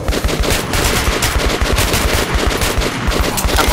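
Sustained automatic gunfire in the first-person shooter game Metro Last Light, a loud, rapid, evenly paced string of shots hammering without pause through the whole stretch.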